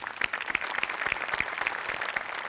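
A studio audience at a televised Marathi comedy show claps steadily, dense close applause with sharp individual claps throughout, no voices over it.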